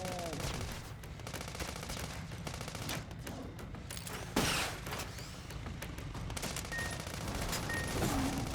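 Shotgun blasts in the Sand Land video game, sharp gunfire reports over a dense, busy game soundscape, with one louder shot standing out midway among steady background action.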